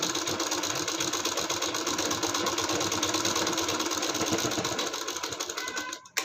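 Sewing machine stitching around the round hem of a palazzo leg, a fast steady mechanical whirr with rapid needle clatter running continuously up close, stopping abruptly near the end.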